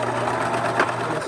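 A sewing machine stitches a fabric face mask, its motor humming steadily and loud with a constant close whirr of the needle running throughout, no pause.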